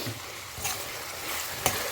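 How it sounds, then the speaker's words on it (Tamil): Onions sizzle steadily in a pan while being stirred for a cherry tomato kurma, with close, continuous frying hiss and a few scraping stirs and one sharp clack near the end. "இது நல்லா கோல்டன் ஃப்ரை ஆகிற வரைக்கும் வதக்கணும்."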